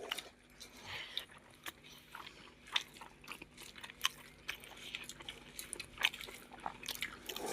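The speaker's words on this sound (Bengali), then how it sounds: "গরম গরম ডিম ভাজা খাওয়া চলছে" Someone eats a hot fried egg with potato mash at home, soft wet chewing and bites repeating close up in an irregular rhythm.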